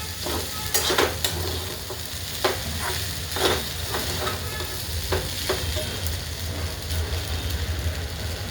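Potato sabudana khichdi being stirred in a frying pan, with a steady sizzle under repeated sharp scraping clicks of the spoon against the pan, heard close up and without talk.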